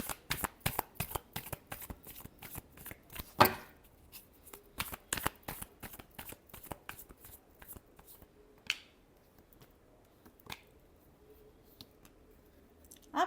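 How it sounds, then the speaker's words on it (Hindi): A deck of tarot cards is shuffled in quick, crisp riffling bursts, with sharp card snaps and a few slower, more spaced flicks toward the end. "last shuffle"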